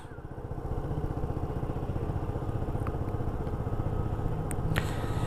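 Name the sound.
Yamaha Zuma scooter engine revving to about 5,000 RPM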